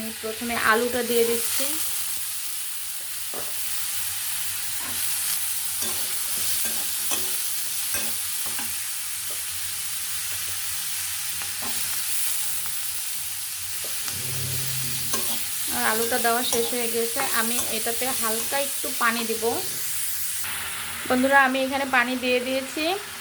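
Spiced potatoes and winter vegetables fry in a pan, a soft continuous sizzle under tonal hum, with louder stirring and scraping passages toward the end.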